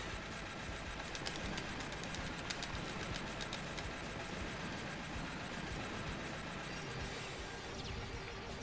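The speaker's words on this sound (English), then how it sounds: "Time for another train." A train rumbles steadily past in the arcade game Metal Slug 2, with continuous clattering wheels and mechanical rattling lasting throughout, loud and close with no talking.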